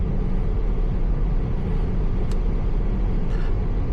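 A 2026 Tesla Model Y Performance driving along a Sydney road, heard from inside as a steady low rumble of road and tyre noise with a faint brief hiss or two, no voices.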